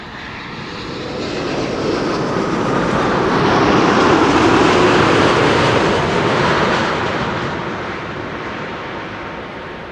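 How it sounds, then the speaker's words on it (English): A KLM Boeing 787-10 Dreamliner from New York JFK arrives at Schiphol, its jet roar swelling loud as it passes close overhead, peaking mid-way and then fading away. "KLM flight 644 is arriving. 787-10 Dreamliner arriving from New York,"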